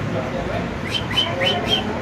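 Pigeons at a pigeon farm call and coo, with a few short, repeated bird notes over a steady background murmur.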